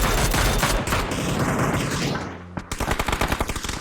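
Rapid gunfire rattles loudly in a PUBG esports match: a continuous fusillade of close shots for over two seconds, a brief pause, then a quick run of distinct, evenly spaced automatic bursts.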